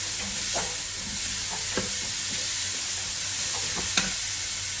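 Two chopped onions fry in a pan for a paneer vegetable kurma, with a steady broadband sizzle and occasional sharp scrapes and clicks of stirring, close and continuous.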